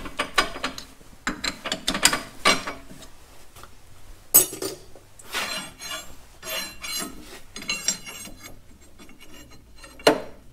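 Steel die cutting the final threads onto a round shaft already mostly threaded on an old South Bend lathe, heard as repeated rasping, ratcheting turns in bursts with short pauses, close and moderately loud.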